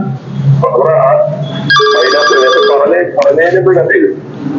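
An office phone at an electricity office rings with a bright electronic tone while people talk over it, the ringing cutting in partway through and fading under continued speech.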